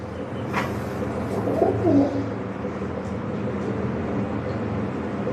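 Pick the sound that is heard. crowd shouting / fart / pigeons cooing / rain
pigeons cooing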